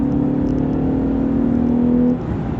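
A Lexus GS 350 F Sport AWD engine is revved under throttle, giving a loud, close, sustained rising drone for about two seconds that then eases off abruptly.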